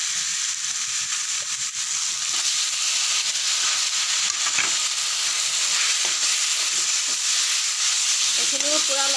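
Chopped tomatoes and spices frying in a pan for masala fish curry give a continuous loud sizzle and hiss with occasional stirring clinks, and a voice briefly speaks near the end.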